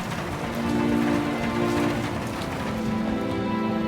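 Heavy, steady rain from a category 1 hurricane in Mexico pours down in a dense, continuous hiss with no voices present.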